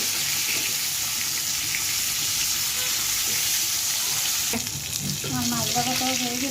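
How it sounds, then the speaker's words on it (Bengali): Fish frying loudly in a pan in a home kitchen, a dense, close, continuous sizzle over low heat, with a faint clink of a utensil toward the end. "আমার মাছ ভাজাটাও হয়ে গেছে"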